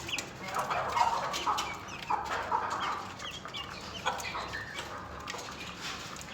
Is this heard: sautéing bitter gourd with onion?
no